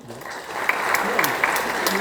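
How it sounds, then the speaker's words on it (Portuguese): A short burst of audience clapping at a university student event. It is fairly loud and steady, with some voices and sharper individual claps standing out in the mix. "Palmas para o Alan"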